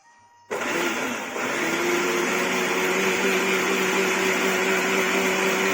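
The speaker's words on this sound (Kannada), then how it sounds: "ಸ್ವಲ್ಪ ಮಜ್ಜಿಗೆ ಹಾಕಿ ನುಣ್ಣಗೆ ರುಬ್ಬುವುದು" An electric mixer grinder starts abruptly after a moment of quiet and runs loud and steady, whirring as it grinds batter with buttermilk and salt, its motor pitch settling slightly after startup.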